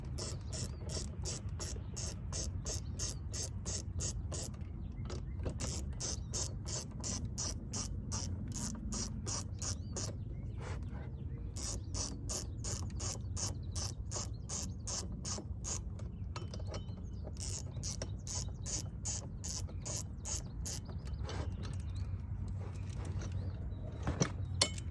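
Ratchet wrench steadily clicking as bolts are run up on the stirrup side steps of a 2021 Ford Bronco, a fast continuous pawl rattle with brief pauses, close and alone without talk.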